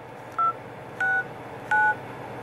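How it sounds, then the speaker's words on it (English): Three separate beeping keypad tones sound in an even rhythm as number keys are pressed on the dialer of a T-Mobile myTouch 4G smartphone, each beep clear and close against a quiet background. "The thing I like about the phone dialer is that you could search for people by typing into the number keys."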